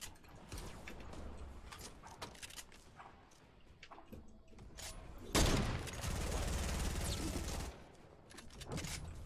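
Gunfire from a shooter video game, with scattered shots and then a loud, dense burst of rapid fire in the middle, close and dominant with no talk.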